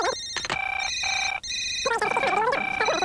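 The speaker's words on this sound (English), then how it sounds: "our phones never stop ringing" A telephone rings in repeated electronic bursts with short gaps, loud and close, in a busy printing shop office.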